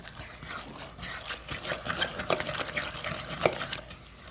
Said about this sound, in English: Give it all a stir. Make sure you're scraping your sides down.